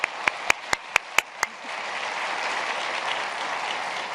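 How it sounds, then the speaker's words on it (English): A few sharp, close claps ring out at a College Opportunity Day event before a broader round of audience applause swells and carries on steadily behind them. "We have to give him another round of applause."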